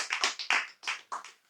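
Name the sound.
audience applause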